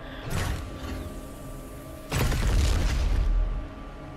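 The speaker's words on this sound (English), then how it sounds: "Very strong grenade." Grenade blasts in DOOM Eternal: a first deep boom near the start, then a louder, longer thundering explosion with rumbling tail midway, both close and heavy over a low game ambience.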